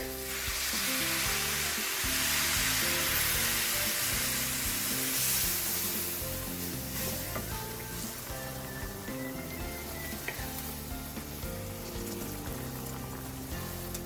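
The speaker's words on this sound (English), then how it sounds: "I'm going to lower the fire. And And I'm going to add the fish stock" Fish stock sizzling in a hot paella pan of seafood rice over lowered heat, a steady loud hiss and crackle running throughout with faint bubbling, no voices.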